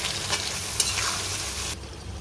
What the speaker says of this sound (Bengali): পেঁয়াজটা খুব সুন্দর ভাজা হয়ে গিয়েছে